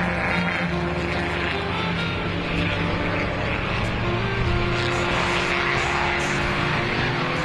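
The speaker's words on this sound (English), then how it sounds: "with the magnificent red 1952 3-litre Ferrari 625A of Alexander Boswell" A red 1952 3-litre Ferrari 625A vintage racing car roars past at a historic race meeting, its steady engine drone loud and continuous with broadband rumble throughout, no voices present.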